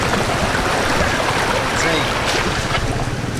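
A shallow stream flows at a 4WD track crossing near Mundaring, a loud, continuous wash of rushing water close by with a faint voice over it.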